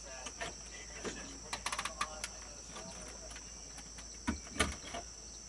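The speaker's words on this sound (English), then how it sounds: "Okay, I hear the crickets now. Yeah, crickets outside." Faint steady high-pitched drone of crickets outdoors during a thunderstorm, with scattered clicks and taps over it and a low hum.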